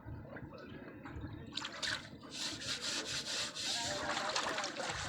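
Water scooped with a dipper at a freshwater spot while washing cooking pots, heard as repeated splashing and sloshing scoops with rubbing, close and fairly loud.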